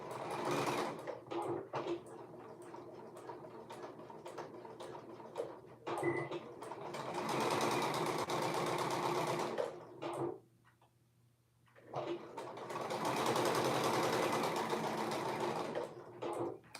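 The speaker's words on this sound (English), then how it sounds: "I'm going to sew this down at a 3/8" A domestic sewing machine stitching a 3/8-inch seam runs in a long steady whirring stretch, pauses briefly to near quiet, then starts up again for another sustained run, close and alone without talk.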